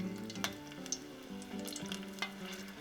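Battered tempura shrimp fry in hot oil, a soft continuous crackle and bubbling with occasional sharper pops, fairly quiet and close, no talking.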